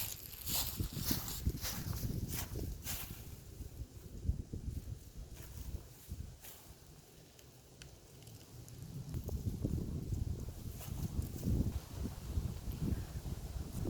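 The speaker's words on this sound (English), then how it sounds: "I apologize, it's quite windy today" Gusty wind buffets the microphone in low rumbling bursts, rising and easing over the span, with faint rustling underneath and no speech.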